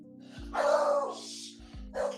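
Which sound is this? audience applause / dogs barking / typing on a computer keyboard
dogs barking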